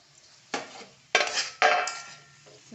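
Egg masala being stirred in a pan with coriander, three or four distinct scraping strokes of a spoon against the metal, close and fairly loud, separated by short pauses, no talk.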